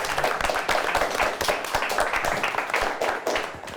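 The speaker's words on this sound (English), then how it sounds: "Let's give both teams a nice round of applause." A small studio audience claps for two quiz teams at the close of a game, a steady, fairly near round of applause that trails off slightly at the end.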